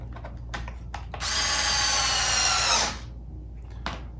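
A power drill drives screws to mount a servo in a DBXL 2.0 RC car. One loud, steady whirring run lasts about two seconds, framed by small clicks and handling noises, close up and without speech.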